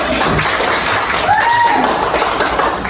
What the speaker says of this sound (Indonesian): kita tepuk tangan dulu semua